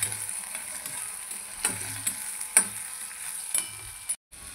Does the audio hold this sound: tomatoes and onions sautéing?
yes